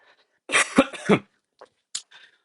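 A burst of three harsh, close coughs from a man, followed by a couple of softer throat-clearing sounds.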